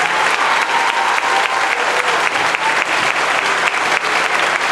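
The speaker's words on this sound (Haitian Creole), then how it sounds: "un bravo pour ça, mon Dieu, ma parole." Loud, sustained applause from a church congregation during a French-language fasting service, dense steady clapping filling the space with no voices over it.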